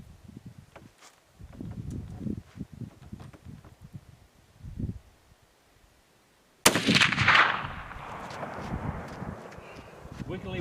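A Remington 700 BDL Custom 30-06 bolt-action rifle in a semi bench rest stock fires one sharp, loud report that echoes and fades. Someone talks before the shot, and a brief silence precedes it.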